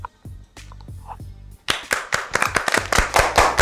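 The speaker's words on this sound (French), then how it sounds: "Applaudissez pour la vraie copine" An audience breaks into applause after a few scattered isolated claps, then a dense burst of clapping swells and continues close and lively.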